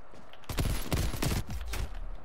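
Pistol shots in a gun game video game round, several quick close pops fired in a rapid cluster over about a second, followed by fainter trailing shots and game noise.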